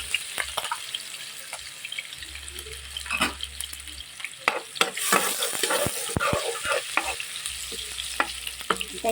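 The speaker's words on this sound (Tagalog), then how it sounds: "Mainit na mantika, pwede na natin ilagay ang bawang." Garlic crackles and sizzles in hot oil for a stew of chicken with pineapple, an uneven spattering fry punctuated by sharp pops and utensil clicks, close and moderately loud with no talking.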